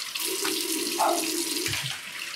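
Tap water runs steadily into a sink as a vintage Gillette Super 109 safety razor is rinsed, a close, continuous splashing hiss with brief clinks, lasting a couple of seconds.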